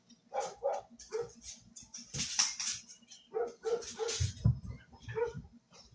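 Dogs barking indoors, several sharp barks and yips in quick irregular bursts, fairly close and moderately loud, with brief pauses between.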